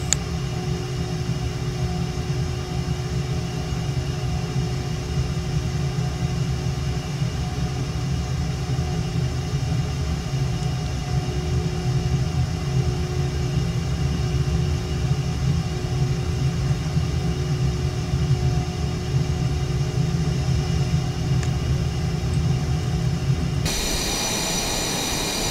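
A low, steady engine rumble from an F-117 Nighthawk jet taxiing toward runway 9 in Microsoft Flight Simulator, a continuous drone with no breaks that shifts slightly near the end.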